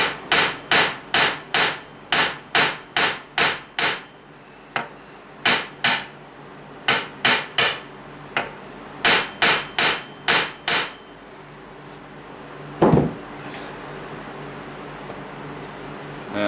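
A small ball peen hammer strikes a wedge into its own loose head in sharp, ringing metallic blows, delivered in quick bursts of several hits with short pauses between, close and loud, then a lone scrape near the end.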